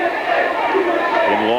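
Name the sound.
boxing match crowd cheering and chattering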